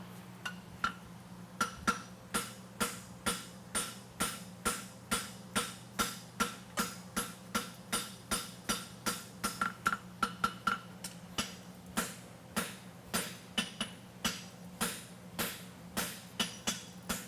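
Blacksmith hammering a blade on the horn of an anvil at a world championship forging event, a long run of evenly spaced ringing metallic strikes, about two per second, close and clear with no talk.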